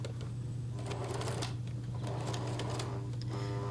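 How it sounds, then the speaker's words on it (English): Sewing machine stitching over the bunched center of a fabric bow for a sun dress, a steady close mechanical hum with rapid needle clatter running throughout. "Bunch up the center of the bow and just sew over it."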